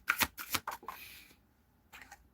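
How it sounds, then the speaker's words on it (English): Tarot cards being shuffled in several quick riffling bursts, close and fairly crisp, with a brief pause before one last short burst. "Shuffle again."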